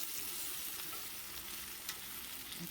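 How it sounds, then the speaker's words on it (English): Soft sizzling and scraping as squash and onions are stirred together in a pot with a mix and mash tool, a continuous faint frying hiss with occasional clicks, no talking. "I'm going to use my mix and mash and just stir everything up"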